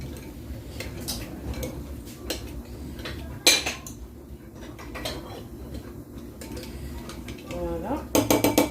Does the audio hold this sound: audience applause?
no